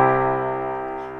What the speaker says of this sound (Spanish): el acorde de do mayor, compuesto por las notas do, mi y sol, y que suena así de bonito